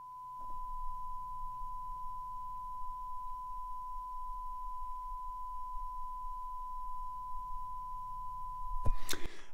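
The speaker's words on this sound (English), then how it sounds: "using our audio calibrator, we can put some tone in here, right up against the SM7B" A steady sine test tone from an audio calibrator pressed right up against a Shure SM7B dynamic microphone, holding one constant pitch for about nine seconds before a brief burst of handling noise at the end, with no talking.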